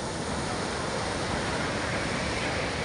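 Ocean surf pounds a shoreline at a river mouth during high waves, a dense, unbroken roar of crashing water that stays loud and even throughout, with no voices.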